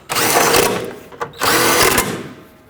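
A power tool runs in two loud close bursts while snugging up a pair of 10mm bolts during a 2007-2009 Saturn Aura radiator and fan replacement, with a short pause between the runs.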